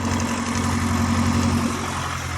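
A farm tractor with a Detroit diesel engine idles steadily nearby, a loud, even low rumble with a constant drone and no change in pace, heard alone.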